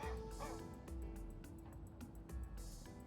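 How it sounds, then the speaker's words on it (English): A dog in the Honkai: Star Rail video game barks in quick, close yips and bow-wows, repeated several times in a short burst with no talking over it. "Righteous barking of a dog."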